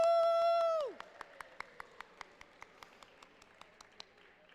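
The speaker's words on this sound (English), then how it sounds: "Give them a round of applause." At a seventh-grade awards ceremony, a sustained, high whooping cry breaks off and gives way to steady, evenly spaced claps, fairly faint and sparse, as if from a single person or a few, continuing at an even pace.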